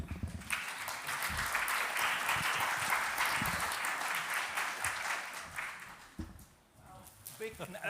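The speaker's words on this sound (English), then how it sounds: "And again an applause for Yannick." An audience at an Africa Day event gives speaker Yannick Dupont sustained applause, a dense wash of clapping that fades out after about six seconds, with a voice speaking faintly underneath.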